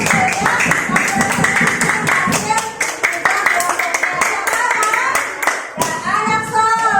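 A class of students claps their hands together for group 5 in a classroom, a dense run of close, sharp hand claps with voices mixed in, easing briefly before picking back up.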